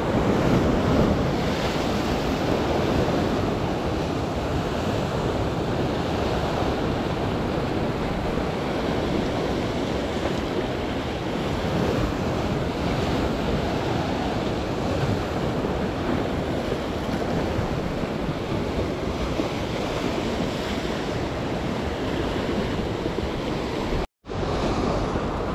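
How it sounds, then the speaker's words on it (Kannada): Rough sea surf at Malpe Lighthouse Island roars continuously and loudly as the tide recedes, with heavy wind buffeting the microphone throughout and no talking. "ಶಕಿಲ್ ಬಾಯ್, ಸಮುದ್ರ ರಫ್ ಇದೆ ಬಹಳ"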